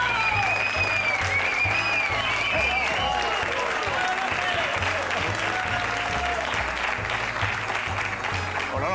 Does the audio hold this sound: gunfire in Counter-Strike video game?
no